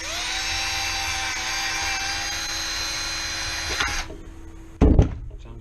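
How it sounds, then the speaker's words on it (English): A small electric drill whines steadily for about four seconds while drilling a hole in a filament dehydrator, then winds down and stops, followed by a brief clunk. "I'm going to go ahead and just drill us a hole right here"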